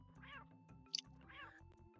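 A cat gives two separate meows, each rising and falling and spaced about a second apart, with a short sharp noise between them over a low steady hum.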